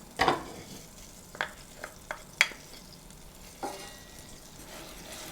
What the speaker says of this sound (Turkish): Bir 3-4 dakika kadar biber salçamı kavuracağım.